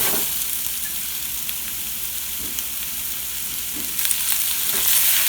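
Yellow zucchini with salt, thyme and sesame seeds fries in a pan, making a loud, continuous crackling sizzle with a few soft stirring bumps, close up and with no voices.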